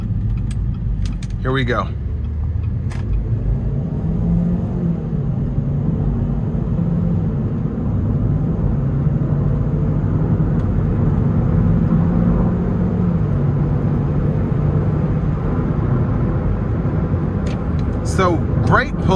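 A 2017 Chevy Cruze hatchback with a 1.4 litre turbo four-cylinder accelerating: a steady low engine drone and road rumble that holds throughout, with someone speaking briefly over it near the start and again at the end.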